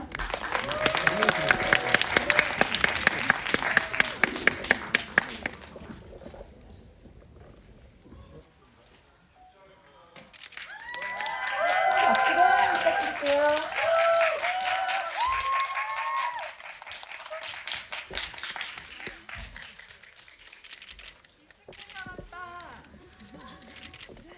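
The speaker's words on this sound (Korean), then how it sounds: "여러분 큰 박수로 환영해 주시기 바랍니다" A cinema audience claps and cheers to welcome the director and actors at an opening-day stage greeting for the film, crowd noise swelling in two bursts with a gap between, a presenter's voice heard over parts of it.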